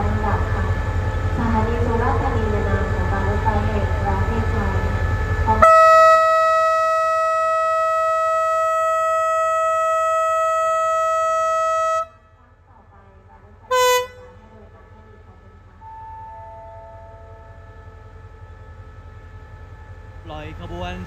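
A loud sustained horn blasts for several seconds as a train departs Surat Thani station in southern Thailand at night, followed by a short second toot and faint tones, with low rumbling underneath and a voice briefly at the start.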